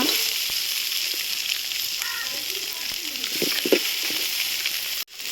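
Onion and garlic sautéing in a pan for a village-style tomato chutney, a constant close sizzle with scraping stir strokes over it and a brief break near the end.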